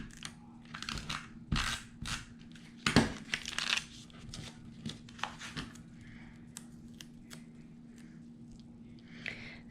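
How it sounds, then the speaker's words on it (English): Double-sided tape is handled and pressed around the edges of a paper card, with close crinkling, peeling and tearing sounds in bursts plus a few sharp crackles, thinning out toward the end over a faint steady hum. "put my double stick"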